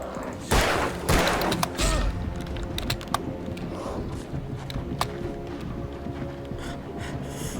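Gunshots in Alan Wake: a quick pair of loud, close shots, then scattered sharper clicks and smaller bangs over a dense, murky background of action noise.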